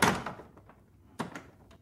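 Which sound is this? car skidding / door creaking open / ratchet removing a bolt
door creaking open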